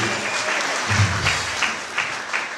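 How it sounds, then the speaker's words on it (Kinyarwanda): A congregation applauds during a bishops' consecration ceremony at the Guérison des Âmes church in Kigali, dense clapping held steady for a couple of seconds with a few louder bursts. "Mubakomera amashyi."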